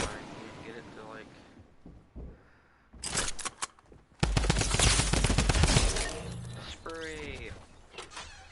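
Gunfire from a shotgun in a shooter video game, with dense bursts of shots and mechanical clatter, loudest in one sustained stretch midway, under and between excited talk.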